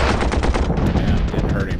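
Rapid machine-gun fire in the World War I strategy game Commander: The Great War, a dense burst of loud, fast repeating shots with no pauses.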